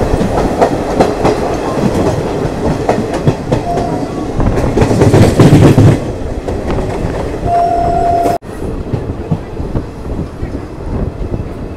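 An ICF local train runs on the Northern Railway in Punjab near Phagwara with loud, continuous rolling and clattering wheels, with a short horn blast partway through and a sharp break before the rumble carries on.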